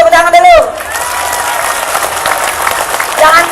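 An audience at an Islamic preaching event in Taipei breaks into sustained applause and crowd noise, loud and close, right after a speaker's voice fades.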